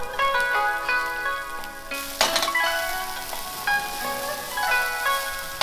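Zucchini fries sizzle and crackle in neutral oil in a hot pan over medium-high heat, a steady close frying hiss with a brief louder burst partway through.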